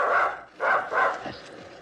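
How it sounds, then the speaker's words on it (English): A dog barks three times in a row in an old-time radio drama, the barks loud and close with a short gap after the first and a trailing whimper at the end. "That's the dog's got our scent."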